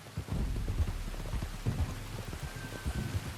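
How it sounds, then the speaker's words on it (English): Steady rain pours down in the Red Dead Redemption 2 video game, a dense continuous hiss with low rumbling underneath, close and unbroken throughout. "You were right about the damn rain."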